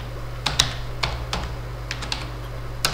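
Computer keyboard typing while entering data in Tally accounting software, with a handful of sharp, separate key clicks, including an Enter press, spread over a few seconds above a low steady electrical hum.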